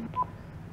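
Intercom keypad on an apartment building entrance panel, beeping faintly as a number is dialed: a couple of short tones near the start, then quiet hum.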